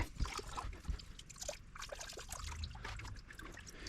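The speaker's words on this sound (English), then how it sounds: "Let's try to drain it over here and see if that actually shut it off." Water trickles and dribbles from a shut-off pipe being drained during a structural floor repair, a faint, uneven splashing flow close by.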